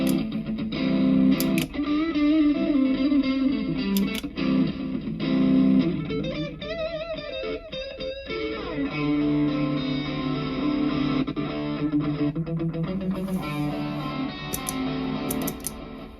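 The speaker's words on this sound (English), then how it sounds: "so we got a big long delay" A distorted electric guitar plays phrases through a long delay effect from a LEKATO multi-effects pedal, its notes echoing and trailing off while new notes sound over the repeats.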